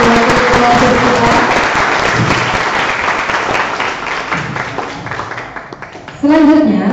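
A school hall audience applauds for three pairs of student council president and vice-president candidates at a debate, loud dense clapping that fades gradually before a voice begins speaking at the end.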